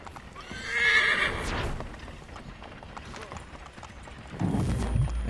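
A horse in the video game Assassin's Creed III gives a loud whinny, and clopping hooves and game ambience follow, with a low thump near the end.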